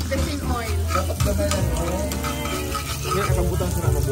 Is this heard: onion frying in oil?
yes